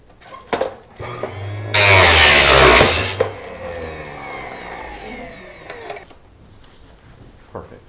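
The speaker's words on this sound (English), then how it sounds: "This is great little jigsaw with a carbide blade just for cutting metals." A small jigsaw with a carbide blade cuts metal channel in a short, loud, buzzing burst of about a second and a half, framed by a few clunks and handling knocks.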